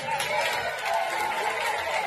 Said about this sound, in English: look at the cheering and the fist pumping and the USA chant